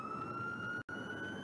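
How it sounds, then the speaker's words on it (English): A steady, high police car siren wails continuously, cut by a brief gap of silence, with a low traffic rumble underneath. "if you have your siren button turned on, your sirens just blare"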